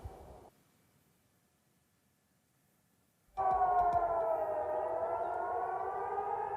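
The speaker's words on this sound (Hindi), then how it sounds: "शनिवार रात तेल अवीव और वेस्ट बैंक में एयर रेड सायरन बज उठे" Air raid sirens sound in Tel Aviv during missile fire from Iran, a loud sustained wailing tone that starts suddenly after a brief noise and near silence and then holds steady.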